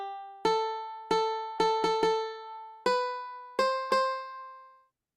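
Eight separate piano notes from a Scratch piano tiles project, played one at a time in an uneven rhythm. Each tone is clean and close and rings out before the next, with no talking.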